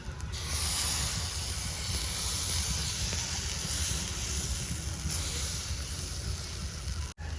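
Rice-flour pitha cakes frying in a pan at a village home for Makar Sankranti, giving a steady, loud hissing sizzle that runs without a break and cuts off abruptly near the end.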